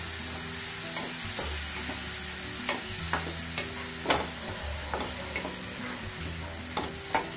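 Almond halwa with added milk sizzles softly in a pan, a steady frying hiss broken by scraping stirs and occasional clinks of the spoon.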